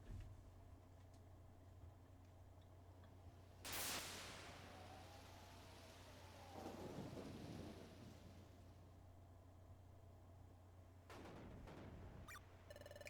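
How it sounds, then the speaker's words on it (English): A stormy night in the video game Pokémon Mystery Dungeon: Explorers of Sky, with steady rain hiss and two sharp thunder crashes, the second followed by a long rumble. "It looks like it's really storming tonight."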